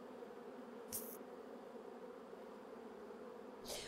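A steady, low insect drone fills the whole stretch, the hum of many honey bees at close range inside a ten-frame hive, with a couple of brief higher rustles breaking through.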